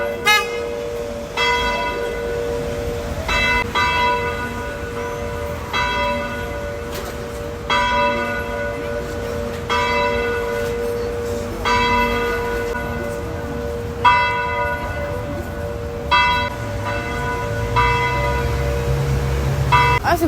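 A church bell rings repeatedly with regular, ringing strikes layered over a sustained hum, continuing for about twenty seconds at moderate distance, with faint background noise and no clear talking.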